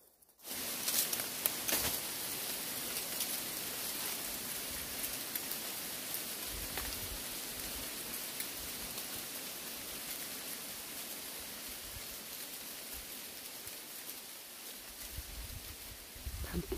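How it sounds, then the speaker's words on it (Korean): Outdoor rain falls on a tree-lined path in a steady, hissing wash that stays even throughout, with no talk over it. "비가 내리고 있습니다"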